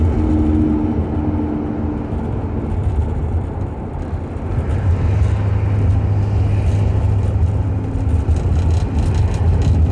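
Studebaker with a 232 engine and 373 rear end cruising in high gear at low speed, a steady low engine drone and road rumble heard from inside the car, no talk.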